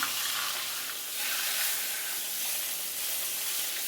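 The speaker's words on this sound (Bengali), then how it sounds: "কড়াইতে সর্ষের তেল গরম করে মাছের মাথাগুলো ভেজে নেব।" Fish heads frying in hot mustard oil in a wok give off a steady, dense sizzle that stays near and even throughout, with no voices.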